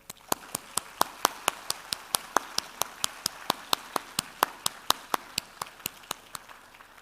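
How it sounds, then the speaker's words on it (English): Evenly spaced, crisp claps at a graduation ceremony ring out about four times a second over a soft room hum, sounding like a sparse, rhythmic applause rather than a full roar. "Let us give a round of applause."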